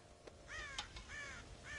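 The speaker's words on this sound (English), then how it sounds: "God damn crows!" Crows caw repeatedly in Red Dead Redemption, a few harsh nasal calls that arrive in quick succession and sound moderately distant, heard alone without any talking.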